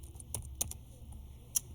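A few sparse, soft clicks of computer keyboard keys as a customer name is typed, quiet and close over a low background hum.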